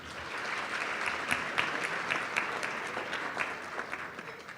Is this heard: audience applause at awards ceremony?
yes